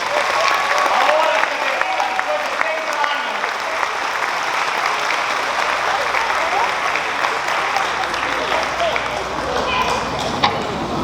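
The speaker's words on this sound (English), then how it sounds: "One more applause to wish Mrs. Basilio a beautiful retirement after 30 years." Continuous audience applause at a school graduation ceremony honouring a teacher retiring after 30 years, a dense, even wash of clapping that holds steady for the whole stretch.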